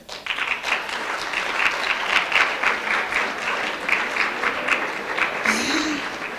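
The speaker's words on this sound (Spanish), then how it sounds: "un fuerte aplauso, por favor, a los recién llegados" Conference audience at a cybersecurity camp gives newcomers a loud, sustained round of applause, a thick crackle of many hands clapping close by throughout, with a brief voice near the end.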